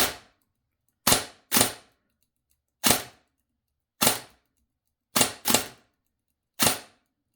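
A Desert Tech MDRX airsoft rifle on an 11.1 V battery fires sharp, loud single shots, seven in all, spaced irregularly, a couple in quick pairs, with silence in between.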